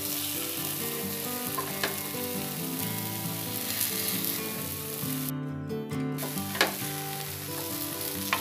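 Ragi dosa cooking with oil on a pan: a constant close sizzle and crackle runs throughout, with a few light taps and scrapes and a brief dropout partway.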